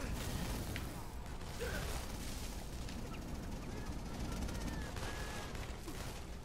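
Gunfire from the video game inFAMOUS Second Son, a steady dense clatter of shots and mechanical noise running the whole time under game ambience, with no clear gaps between bursts.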